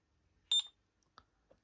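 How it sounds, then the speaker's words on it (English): A single short electronic beep from a JR Propo Elite radio-control transmitter starting its timer, close and clear, followed by a couple of faint clicks in near silence. "you hit the beep, and then you'll start seeing here the timer is on"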